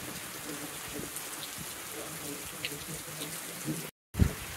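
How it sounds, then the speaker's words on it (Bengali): Heavy rain pours steadily on surfaces, a dense continuous hiss with a brief cutout and a low rumble of thunder near the end. "বাজ পড়ছে।"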